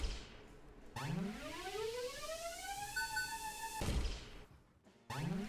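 Charged bow in an Unreal Engine 5 game, a rising tonal sweep climbing to a sustained high electronic tone at full charge, then a sharp burst as it cuts off, followed by another charge starting.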